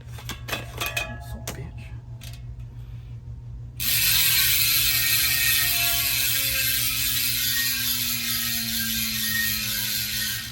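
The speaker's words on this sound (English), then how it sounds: "Very nice loud sounding hub." Rapid, loud mechanical ticking of a dry gravel-bike freehub spinning freely, a steady buzzing clatter that starts abruptly and continues close to the listener.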